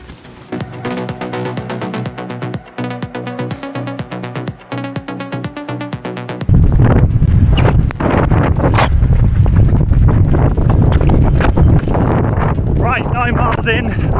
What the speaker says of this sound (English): we've hit the main bit of wind, really